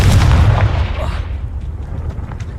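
A Confringo blasting spell explosion in the video game Hogwarts Legacy, a loud deep boom that rolls off into a fading rumble.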